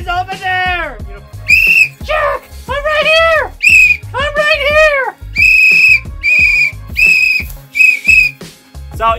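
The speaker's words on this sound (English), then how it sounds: "make sure you bring a whistle" Whistle blown repeatedly inside a cave, sharp shrill blasts and rising-falling warbling tones in quick irregular bursts, loud and close with a slight echo.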